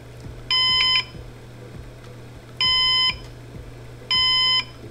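Three loud electronic beeps from a Synology DiskStation NAS during a factory reset, each about half a second long, evenly spaced roughly two seconds apart, over a faint ticking background.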